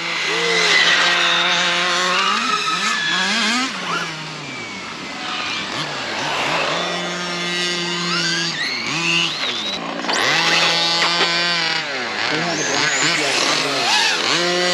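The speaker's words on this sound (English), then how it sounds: "we got another brushless electric car going here" An Arrma Kraton 8S brushless electric RC car driving on a neighborhood street, its motor whining up and down in repeated sharp pitch sweeps, loud and close, with brief voices in between.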